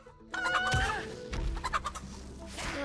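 A chicken in the game Absolum clucks in short, busy bursts, close and fairly loud, layered over game music and effects with some thumping impacts.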